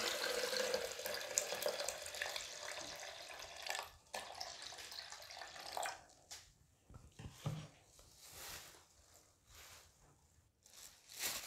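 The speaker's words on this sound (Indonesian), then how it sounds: "kita masukkan air secukupnya" Water is poured into a blender jar over papaya and soursop for juice, a steady running, splashing pour that thins into intermittent trickles and small splashes toward the end.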